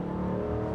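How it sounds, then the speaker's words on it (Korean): A 6400cc SRT V8 in a roughly three-tonne vehicle pulls hard in sport mode on a highway, giving a steady, loud engine drone with strong low harmonics that holds through a short burst. "그래서 스포츠 모드로 해서 살짝 플로어링 해보겠습니다."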